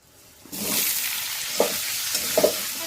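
Chopped ginger, garlic, green chilli, capsicum and onion hit a hot pan with a sudden loud sizzle that keeps hissing, punctuated by a couple of sharp stirring scrapes.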